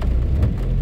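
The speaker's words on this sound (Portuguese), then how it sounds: "Chovendo moderado na cidade, às vezes até um pouco forte" Steady, moderate rain in Porto Alegre hisses continuously with a low rumbling undertone, close and even throughout the brief moment.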